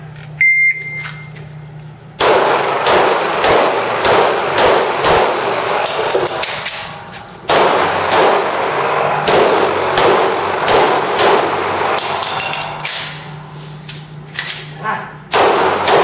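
A shooter fires a rapid, evenly spaced string of loud gunshots during a shooting drill, then pauses briefly and fires a second string, with a low background hum before and after.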